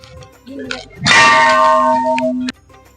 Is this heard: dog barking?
no